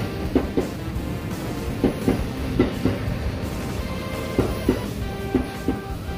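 A train bound for Nagoya rolls into a station with rhythmic clickety-clack thumps over the rails beneath a steady rumbling hum, the beats coming in loose pairs.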